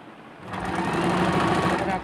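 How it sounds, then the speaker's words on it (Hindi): Sewing machine stitching a name onto a handkerchief, a close, continuous whirring hum that builds slightly and holds steady. "ये देखिए, सेंटर में रखकर मैंने उसको सिलाई को स्टार्ट कर दिया है।"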